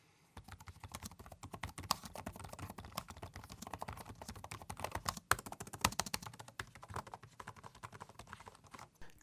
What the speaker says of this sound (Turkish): bir ses performansına bakalım klavye nasıl yazıyor